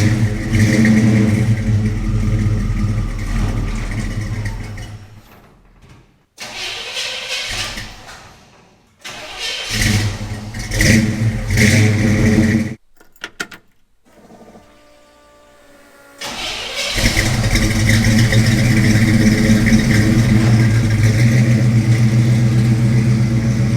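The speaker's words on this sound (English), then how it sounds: "have a look at a cold start with an EFI versus carbureted" Cold starts of car engines, one fuel-injected and one carbureted: a loud, steady engine running, then cranking, catching and revving in uneven bursts with brief gaps, before settling into a steady close idle.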